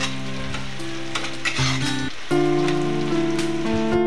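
Chopped onions with two bay leaves fry in mustard oil in a wok, making a loud, steady sizzle under sustained background music with no speech.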